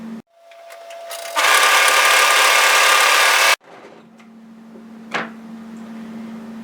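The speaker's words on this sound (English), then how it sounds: "we're going to fold it right sides together and serge or overlock together this short edge" An overlocker serges the short edge of a sweater waistband, starting with a low motor hum and a click, then a loud, steady high-speed whirr for about two seconds that cuts off abruptly into a quieter hum and a brief knock.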